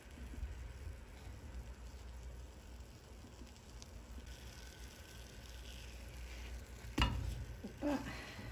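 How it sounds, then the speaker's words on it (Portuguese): Butter sizzling in a frying pan as cornstarch bread cooks, a steady low crackle and hiss running throughout, with a couple of sharper clatters near the end. "Coloco um pouquinho de manteiga na frigideira."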